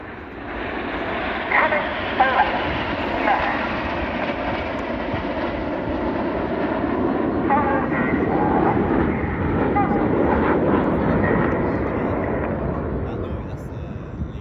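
Red Arrows jets flying in a Concorde formation at a 2024 air display give off a steady, broad roar of jet engines that swells and rolls on for the whole stretch, with a commentator's voice over it.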